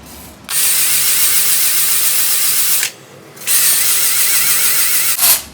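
A cylinder hone with abrasive stones cuts a rusted, seized 1967 Plymouth Belvedere 413 engine bore, giving a loud, steady mechanical grinding whir in two long bursts with a short pause between, then a brief spin-up at the end.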